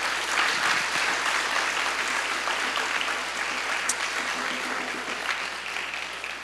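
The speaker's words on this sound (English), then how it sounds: "another round of applause." A Take Back the Night gathering bursts into a full, steady round of applause, many hands clapping close together that fades slightly toward the end.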